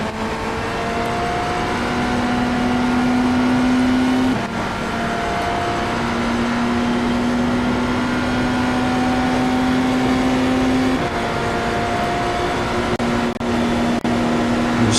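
Cadillac race car engines in the iRacing simulator drone steadily at full throttle, a sustained tonal whine that drops briefly between gear shifts, loud and continuous with no talk.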